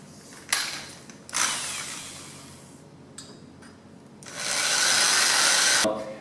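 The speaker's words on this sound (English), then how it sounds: "I'm going to drill some holes in here" A power drill whirs in several bursts, the longest near the end, boring holes into wood for a jig with short pauses between runs.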